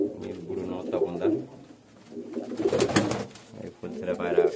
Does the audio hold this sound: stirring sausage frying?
no